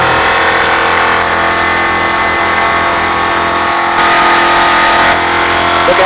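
A car engine revs and accelerates steadily on a cone-marked driving course, loud and continuous throughout with a slight surge in intensity near the end.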